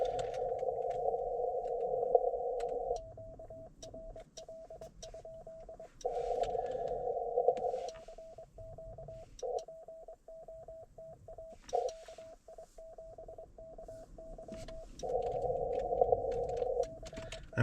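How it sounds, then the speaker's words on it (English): Morse code CW tones from an amateur radio station in the field, a steady keyed tone in rhythmic bursts of dots and dashes, clear against faint background static. "And CW is what we're going to go for to start off here."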